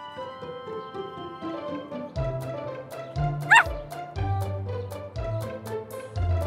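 A cartoon puppy yaps and barks in short bursts, several times over cheerful background music.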